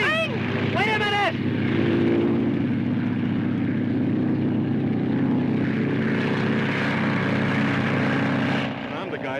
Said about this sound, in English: Wexley, get the plane out.